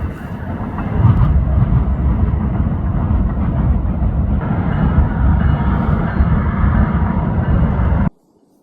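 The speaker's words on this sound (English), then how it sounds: "there was one train going to the right and then another train going to the left" Two trains cross on a railway bridge in New York City, a loud sustained rumble and rattle of wheels on rails that holds steady for several seconds and then cuts off abruptly.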